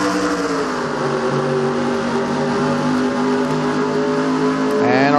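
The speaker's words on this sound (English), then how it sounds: "Race 2 is underway." Race cars in a NASCAR video game drone past in a continuous engine roar, with layered tones shifting gradually and a rising rev near the end.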